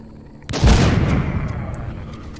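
Fireworks go off in the zombie video game Walking Zombie 2: one loud, booming blast with a crackling tail that fades slowly, close and with no talk over it.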